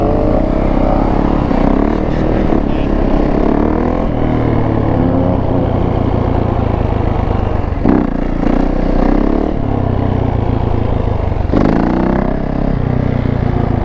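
Two-stroke motorcycle engine revving loud and close, rising and falling in long sweeps with brief dips between gear changes. A continuous raspy drone fills the whole stretch.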